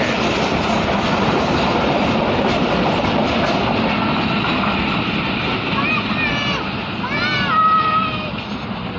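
Crowded passenger train packed for the Teej festival at Risalewala railway station: a steady rolling rumble and clatter of carriages with a few high wheel squeals near the end, and people talking over it.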